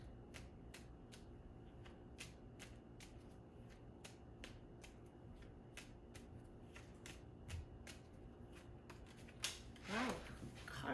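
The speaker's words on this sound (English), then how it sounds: "Wow, cards are flying all over the place." Tarot cards are shuffled in a quiet room: a long run of crisp, evenly spaced card snaps, riffled at a steady rhythm, close and fairly soft, ending in a brief flurry of rustling.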